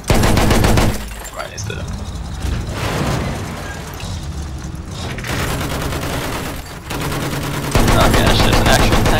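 Dense, loud Battlefield 1 gunfire, with continuous rapid shots and bursts rattling on for several seconds, sometimes briefly easing and then returning, while someone speaks over it.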